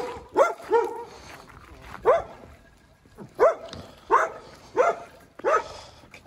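Several dogs bark in short, irregular bursts, about seven sharp barks spread over a few seconds, fairly close by, as they trail along on an outdoor walk toward a farm pond being stocked with fish.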